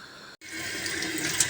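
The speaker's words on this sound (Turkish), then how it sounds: "Tekrar mercimeklerimi yıkıyorum." Lentils rinsed under a running kitchen tap, a steady close hiss of flowing water after a brief break near the start, continuing loud and even to the end.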